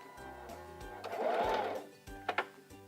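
A Singer 3337 sewing machine runs a straight stitch, its needle thumping in a quick, even rhythm up close, with a brief louder whirring surge in the middle and no speech.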